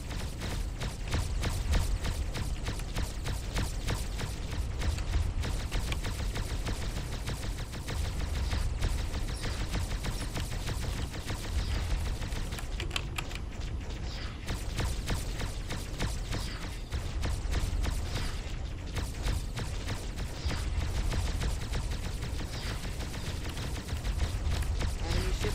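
Spaceship weapons fire steadily in a Starpoint Gemini 2 space battle, a dense, continuous rattle of rapid mechanical bursts that keeps going without pause for the whole stretch.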